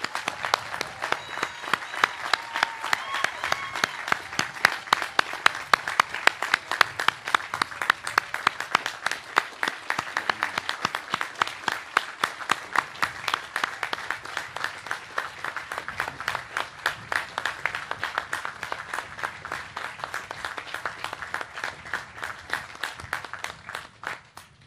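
Crowd applause at the commissioning ceremony of the submarine USS Indiana: sustained, even clapping from many hands that keeps up a steady, almost rhythmic beat for the whole stretch, fading slightly toward the end.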